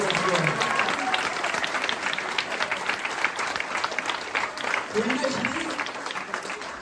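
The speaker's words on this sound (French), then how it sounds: "applaudissez-la s'il vous plaît déjà avant de la présenter." Audience at a stage show in Corsica claps steadily and loudly throughout, a dense wash of applause filling the whole stretch without pause.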